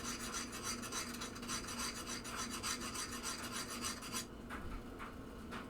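A file rasps steadily across the sharp edge of a metal part from a 1974 Williams Lucky Ace pinball playfield, fast close strokes in an even rhythm that stop near the end, with no talk.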